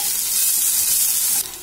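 Crushed green chili and ginger frying in a pan for samosa filling, a steady loud hiss with a brief stir, the sizzle dropping slightly at the very end.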